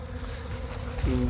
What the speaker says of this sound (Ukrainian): Вона працює, бачимо бджоли беруть пилок